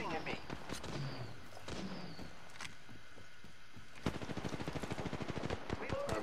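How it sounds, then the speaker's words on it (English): Gunfire in the video game Apex Legends: bursts of rapid automatic shots from enemies, with a sustained rattling volley near the end, mixed under a player's ongoing talk. "The enemies are shooting at me."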